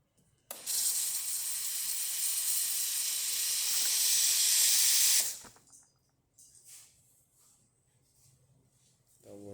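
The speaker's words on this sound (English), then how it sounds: "So let's test the steamer." Steam wand on a freshly serviced Breville Oracle Touch espresso machine hisses loudly and steadily for about five seconds, then cuts off, leaving faint clicks and quiet handling noises.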